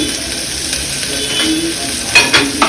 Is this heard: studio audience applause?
no